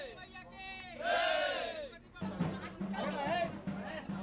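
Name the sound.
crowd of devotees at Durga Puja pandal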